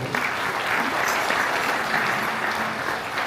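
A crowd claps loudly and steadily at a devotional bhajan event during the Falgun Mahotsav at Jatela Dham, with dense, sustained applause throughout.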